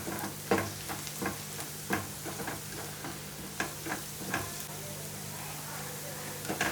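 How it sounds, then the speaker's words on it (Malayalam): Onions sautéing with salt in a pan give off a steady, quiet sizzle scattered with small ticks and pops. No one speaks. "ഇതാ നമ്മുടെ ഉള്ളിയൊക്കെ നന്നായിട്ട് വഴന്നു വന്നിട്ടുണ്ട്"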